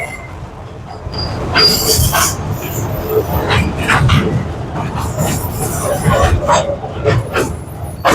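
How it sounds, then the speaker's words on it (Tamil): A toy train at a rail museum in Villivakkam, Chennai, rumbles along the track with sharp wheel squeals and clatter, while people chat nearby throughout. "ஒரு நாளைக்கு 7 தடவை இந்த டாய் ட்ரெயினை இயக்குறாங்க"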